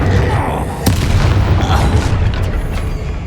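Spell explosions from Bombarda and Confringo blast in the video game Hogwarts Legacy, a loud sustained roar of booming bursts with a sharp crack near the start, filling the whole stretch.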